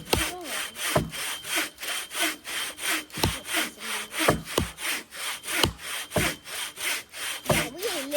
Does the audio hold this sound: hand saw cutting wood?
yes